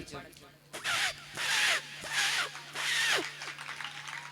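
A voice imitates a bag zipper being closed in a quick run of three or four rasping, swelling strokes, close and fairly soft.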